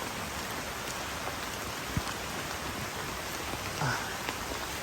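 Heavy rain pours steadily on a mountain campsite on Mount Ciremai, a broad continuous hiss of drops with a couple of brief knocks, no voices.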